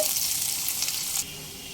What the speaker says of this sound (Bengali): পেঁয়াজ ভাজা হতে দেব